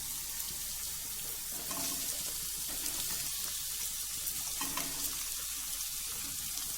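Chicken and carrot fry in hot oil, a steady, dense sizzle filling the whole stretch, close and fairly loud, with occasional stirring scrapes and no talking.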